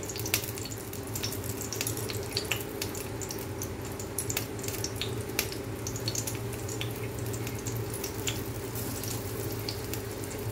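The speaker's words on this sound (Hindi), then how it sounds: "अब यहाँ पे हमने वन स्पून ऑयल गरम किया है गाइस अब इसे हम इसमें इस तरीके से डाल देंगे" Stuffed green chillies sizzling in a spoonful of hot oil in a pan, a steady loud crackle and hiss throughout with small pops, no talking.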